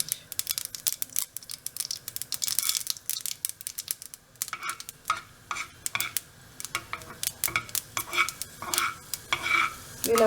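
Mustard seeds spluttering in hot oil while tempering for South Indian curd rice, a dense, busy run of sharp crackles and pops that continues for about ten seconds, close and fairly loud, with a ladle clinking now and then.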